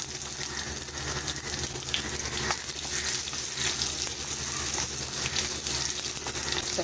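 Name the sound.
onion and dried red chilli sautéing in oil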